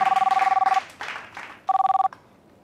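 A telephone bell rings in two bursts of rapid trilling, the first longer, the second brief, loud and close, with a little indistinct sound between them.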